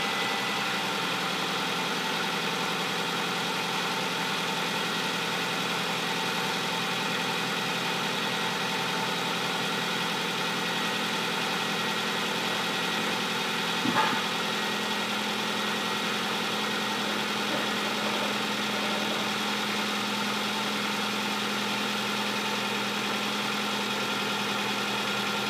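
A 2007 Hyundai Elantra with a 2.0 engine runs at a steady idle, a continuous even hum with a low tone, heard close and alone apart from one brief tap midway.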